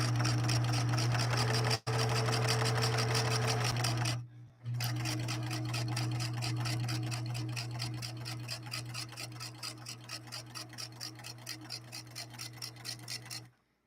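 A Singer 6233 sewing machine runs steadily through two layers of bubblegum fabric on a crescent stitch, giving a loud continuous motor whir with rapid rhythmic needle ticking, a brief pause partway through, then a slowing rattle at the end.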